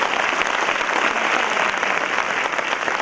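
A crowd fills a hall with steady, dense applause at a motivational speech event for MPSC toppers, the clapping sustained and loud throughout without pause.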